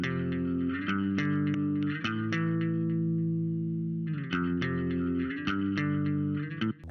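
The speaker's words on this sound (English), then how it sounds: "I also did a second sort of sound for the bass, just with some delay on it." Bass guitar with a delay effect, notes picked in a repeating pattern with echoing repeats trailing off behind them, close and loud with no voice over it.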